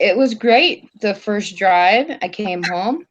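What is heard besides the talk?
None of the usual background noises is heard.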